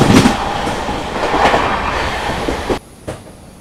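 The Amritsar–Saharsa Garib Rath Express 12204, running on LHB coaches, rumbles loudly close by with rhythmic wheel clatter, then drops abruptly to a much quieter rolling hum near the end.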